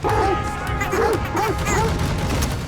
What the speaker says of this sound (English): The selling point for animal lovers, you have a dog.